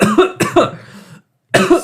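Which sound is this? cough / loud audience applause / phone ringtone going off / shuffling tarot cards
cough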